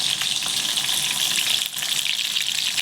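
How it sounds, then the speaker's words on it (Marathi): Chopped tomato frying in a hot pan gives a steady, loud, hissing sizzle throughout, with a slight dip near the middle and no talking. "हा टॉमॅटो आता याच्यात टाकायचा आहे टॉमॅटो टाकलेलं आहे"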